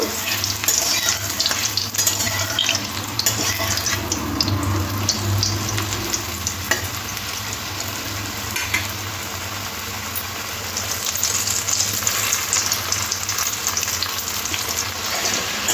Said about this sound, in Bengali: এবার ধোকাগুলো দিয়ে লাল লাল করে ভেজে নেব।